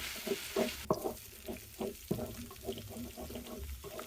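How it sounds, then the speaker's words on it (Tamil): Tomatoes and chicken masala sautéing in hot oil for a Chettinad chicken gravy, giving a steady close sizzle with repeated stirring scrapes in an irregular rhythm, no voices. "ஸோ நல்லா வதக்கிக்கோங்க"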